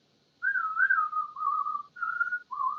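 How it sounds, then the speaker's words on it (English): Whistling of a Clint Eastwood-style western tune: clean, close, solo phrases with sliding, wavering notes in several separate breaths after a short silence. "I had to whistle in the background"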